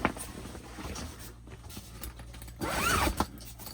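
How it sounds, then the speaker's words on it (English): A zipper on a fabric window cover inside a custom Sprinter Ekko camper van being pulled down, heard close with a soft rasp building to one louder, longer zipping stroke near the end. "I zip that all the way down."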